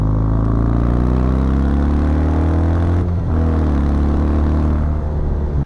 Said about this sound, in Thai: ท่อไอเสียเดิมของเขาเนี่ยมันไม่ได้เงียบมากนะครับเป็นรถอีกหนึ่งรุ่นที่เป็นท่อเดิมเสียงเพาะนะฮะ